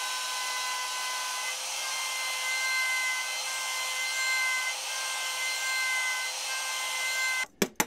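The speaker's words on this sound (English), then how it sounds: "Now I take my router. I'm using a quarter inch straight bit" Router fitted with a quarter inch straight bit cutting wood for a storage cabinet hinge recess, a loud, close, steady high whine that runs continuously before stopping with a few knocks at the end.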